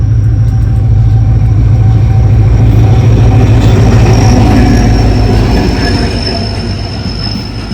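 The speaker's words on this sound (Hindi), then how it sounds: "ये देखें रेलगाड़ी आ चुकी है" A train rolls past close by, a steady loud rumble of wheels and carriages with faint squeals and clatter, fading slightly near the end; no voices.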